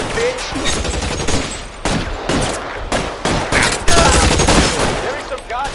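Bursts of gunfire in the 1940s crime game LA Noire, irregular loud shots and volleys in close succession during a shootout, with shouting voices mixed in.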